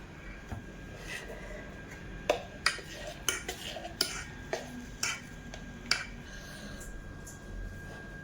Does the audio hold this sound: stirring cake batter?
yes